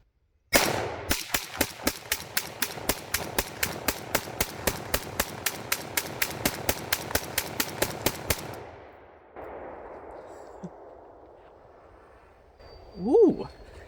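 Russian-made guns fire at an outdoor range in a fast, loud run of about thirty evenly spaced shots, then stop abruptly; a voice exclaims afterward over faint background noise.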